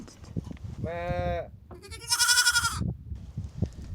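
Farm goats bleat twice, loud and near, each a long wavering cry, with a shorter sound from an animal or person in between and soft background noise.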